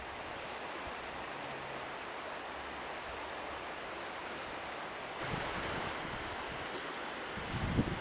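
The Orbe river flows in a steady, broadband rush of moving water, constant and moderately loud, swelling slightly in the last few seconds with no voices present.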